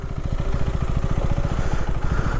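Several motorcycles riding past on a road near a river crossing in Arunachal Pradesh, a steady, loud, rhythmic engine throb with clattering pulses that holds throughout without any talk.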